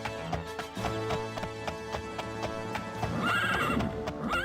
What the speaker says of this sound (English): Oh great, now I hear a horse coughing everywhere.